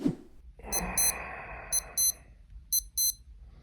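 Rapid electronic beeps from a SKMEI 1628 digital watch alarm come in short bursts of two, repeating three times over a steady background hiss, fairly loud and close.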